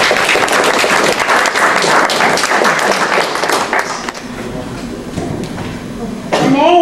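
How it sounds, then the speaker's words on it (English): An audience of volunteers gathered for an evening talk applauds loudly, dense clapping that thins out toward the end before a short voice cuts in. "let's give ourselves a round of applause"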